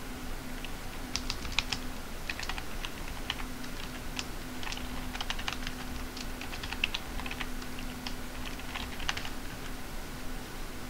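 Rapid, irregular keystrokes on a computer keyboard as a password is typed, close and clear, with a steady quiet background hum and no talking.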